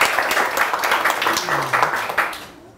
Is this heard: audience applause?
yes